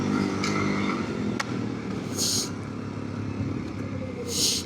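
An ATV quad bike engine drones and revs under throttle, a steady rough mechanical hum with shifting pitch, close and moderately loud, with brief bright hissing bursts.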